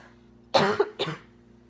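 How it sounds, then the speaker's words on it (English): A single close, hoarse cough in two quick bursts against a faint background hum. "I'm so sorry for this cough."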